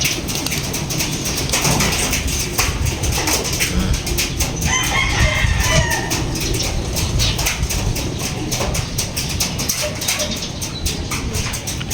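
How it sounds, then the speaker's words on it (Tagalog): Roosters and other fowl crow and cluck around a barnyard, with several overlapping calls near and far amid a busy, noisy outdoor background. "Ngal-ngal ang mga ibon natin, no?"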